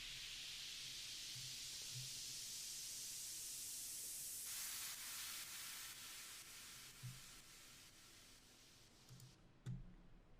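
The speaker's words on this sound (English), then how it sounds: "it's just your usual combination of white noise, rises," A white noise sweep and riser from an electronic music production session builds as a bright hissing wash, then drops to softer noise with a few low thuds and a sharp hit near the end.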